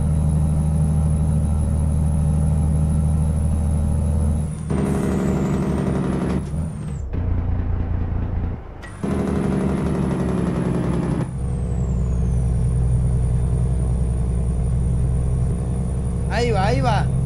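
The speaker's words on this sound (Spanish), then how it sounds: "para poner a traquear ese freno de motor" A heavy truck's engine brake in American Truck Simulator, a loud steady low rumble with air-brake hisses and a brief drop-out in the middle, with someone talking over it.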